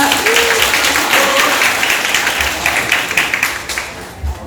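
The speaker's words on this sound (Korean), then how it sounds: "박수 부탁드립니다." An audience applauds at a Korean keto-diet event welcoming a bodybuilder guest, the clapping loud and continuous throughout, with a faint tone and murmur underneath.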